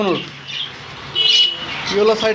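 Yellow-sided conures offered in pairs at a bird sale give sharp, harsh squawks and chirps, one loud call standing out midway, with a voice talking throughout.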